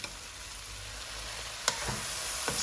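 Shrimp stir-fry with garlic and Chinese cooking wine sizzles in a wok, a steady close hiss broken by a couple of sharp spatula scrapes.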